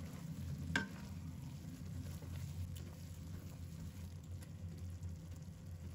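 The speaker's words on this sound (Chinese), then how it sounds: "搅拌几下" A spatula stirs a cabbage and tofu dish with thickened sauce and scallions in a pan, a soft sizzle running steadily underneath with one sharper clink early on.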